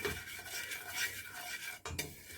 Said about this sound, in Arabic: هنفضل نقلب كده في السكر لحد ما يكرمل كده معانا